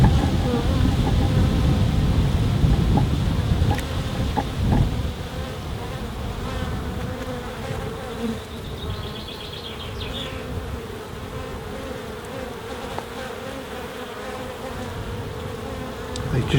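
Honeybees buzz continuously around an open beehive frame full of brood, a dense close hum that is louder at first, then settles into a steadier drone with occasional clicks and handling noises.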